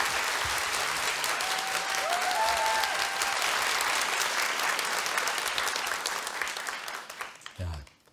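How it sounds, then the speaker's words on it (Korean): A concert audience applauds a singer with loud, sustained clapping across the hall that fades near the end into a thump and quiet. "뜨거운 박수로 감사합니다."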